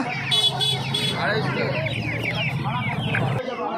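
Chickens cluck continuously at a busy hen market where native birds are sold in pairs, close and fairly loud, with people talking throughout amid market bustle.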